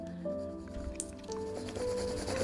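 Light pencil shading strokes laying down the base for an eyebrow in a realistic graphite eye drawing, soft scratchy rubbing of graphite on paper, continuous and close, with no talk.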